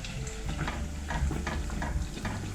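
Steady crackling sizzle of dough pastries (bilyashi) deep frying in hot oil in a thick-bottomed pot, close and constant, with occasional louder pops.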